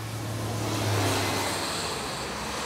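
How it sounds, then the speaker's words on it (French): A car slows and pulls onto the roadside shoulder to park, its engine a steady low rumble with broadband road noise throughout, fairly close and without speech. "Il gare la voiture sur le bas-côté sans déborder sur la route."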